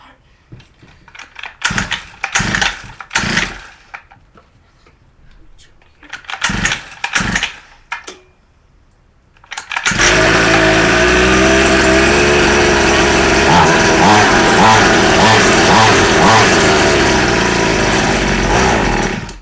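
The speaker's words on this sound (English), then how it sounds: "That's my motorized bike." A motorized bicycle's small engine: first a few clattering bursts as it is cranked and fails to catch, then it fires up and runs steadily with a loud, close, continuous buzzing drone for about ten seconds.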